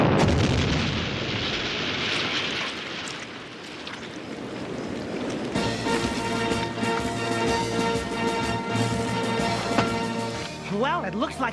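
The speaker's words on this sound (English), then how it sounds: "triple the explosive charge you usually use." A cartoon blast from a triple explosive charge rumbles loudly and then gives way to a long roar of debris mixed with music, with voices over part of it.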